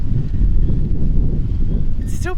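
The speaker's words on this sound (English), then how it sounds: "It's still pretty windy" Strong outdoor wind roaring steadily and loud in the aftermath of several tornadoes, a dense continuous rush of gusts with a brief higher chirp near the end, no talking.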